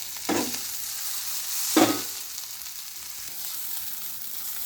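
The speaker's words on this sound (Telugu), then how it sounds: "ముందే ఉడకబెట్టుకున్న మ్యాగీ వేసేద్దాం దీంట్లోకి." Boiled Maggi noodles are stirred and fried with egg in a hot pan, giving a continuous sizzle broken by two distinct scraping stirs near the start, close up with no voices.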